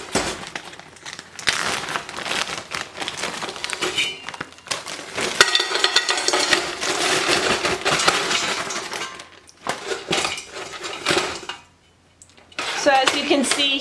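Frozen rhubarb chunks tumble from a large plastic zip bag into a cooking pot, giving a sustained crinkling rustle with icy clatter against the metal, then a brief pause and a last few knocks.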